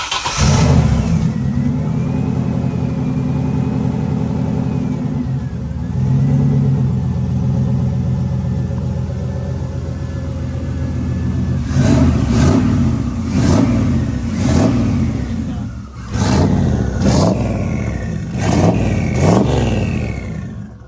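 A turbocharged, essentially stock LS1 V8 swapped into a BMW E46 cranks and fires, idles with a rough steady rumble, then barks through a series of sharp, loud revs close by, with no talking.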